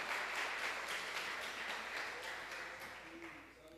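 A church congregation applauds, a steady wash of many hands clapping that stays even and then fades toward the end, heard at a moderate distance.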